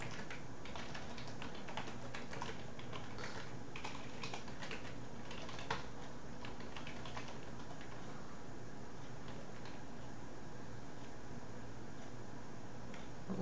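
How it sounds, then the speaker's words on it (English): Steady, fast typing on a computer keyboard while writing code, close and quiet, with keys clicking continuously in irregular bursts. "I'll just type it out again"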